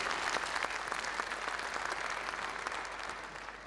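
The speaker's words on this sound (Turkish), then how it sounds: "Lütfen alkışlarınızı rica ederim." A conference audience applauds a speaker with a steady wash of many hands clapping that fades slightly toward the end, fairly distant and with no talk over it.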